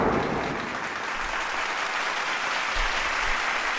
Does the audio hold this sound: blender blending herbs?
no